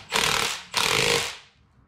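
Power tool tightening a strut compressor tool, two loud rattling impact bursts close by, the second longer and trailing off into quiet.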